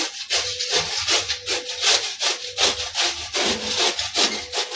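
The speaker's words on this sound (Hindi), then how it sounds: "ई मीडियम साइजक जे अछि छेद, ओहिसँ एहिमे कद्दूकस कऽ लेबै सजमनिके" A halved bottle gourd is grated by hand across the medium holes of a metal grater, making a steady run of close, rhythmic rasping strokes, about two each second, with no voices.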